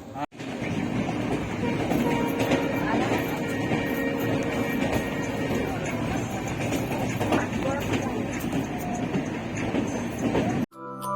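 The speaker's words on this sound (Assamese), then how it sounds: "এতিয়া ট্ৰেইন ষ্টাৰ্ট হৈ গ'ল পূৰা" A passenger train between Tinsukia and Guwahati rumbles along steadily from inside a carriage, a continuous roar with faint rhythmic clatter, and voices murmur underneath.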